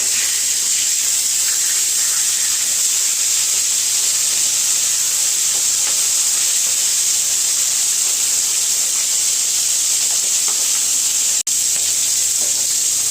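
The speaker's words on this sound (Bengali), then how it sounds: "এখন আমি কড়াইতে সর্ষের তেল দিয়ে দিচ্ছি কড়াইটা গরম হয়ে গেছে আমার এখন আমি মাছগুলো একটু ভেজে নেবো হালকা করে" Flipped hilsa pieces keep frying in mustard oil in a wok, a continuous close hiss and sizzle holding an even level throughout, broken once by a single sharp click near the end, with no voices.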